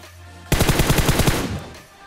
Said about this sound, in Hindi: मैं सीधा इसे M416 से फोड़ देता हूँ